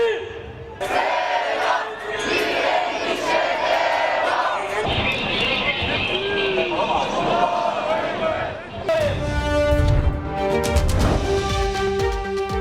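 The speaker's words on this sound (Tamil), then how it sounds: "பேரணியில் பங்கேற்ற மக்கள் இஸ்ரேலுக்கு எதிராக கோஷங்களை எழுப்பியதுடன் பாலஸ்தீனியர்களை வாழ விடுமாறும்" Large crowd at a pro-Palestinian rally in Turkey chanting and shouting slogans, a dense, continuous roar of many voices with rhythmic bursts and some louder shouts nearby.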